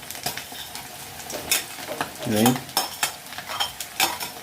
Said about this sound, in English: frying the onions in oil, cooking oil